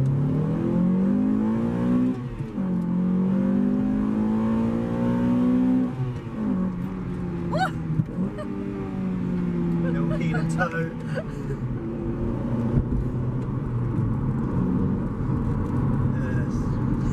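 A Honda Accord Type R engine revs hard with a VTEC crossover on a track, its rising and falling tone sweeping through several pulls, loud and close, with people talking over it.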